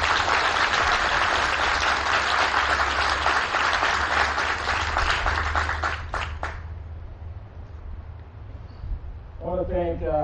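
Audience applause at a 2019 military relief and appointment ceremony, dense sustained clapping that fades out after about six seconds, followed by a voice beginning to speak.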